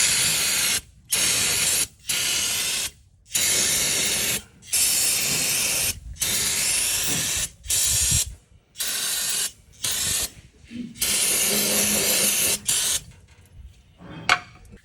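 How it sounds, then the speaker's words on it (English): Brake cleaner sprayed to wash coolant off during maintenance work: a series of about ten loud, hissing bursts of one to two seconds each, separated by short silent pauses, with a few softer spurts near the end. "spray all this coolant off with some brake cleaner."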